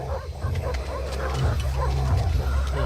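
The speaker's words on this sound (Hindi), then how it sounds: "ये सब जंगली कुत्ते हैं।" Wild dogs bark and yip in a film scene, a dense, agitated run of calls over a heavy low rumble, with a voice partly mixed in.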